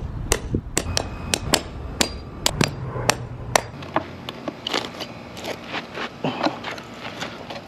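Hammer blows knock wooden forms off cured concrete, a steady series of sharp, close, loud strikes with some scraping and clatter of loosened boards.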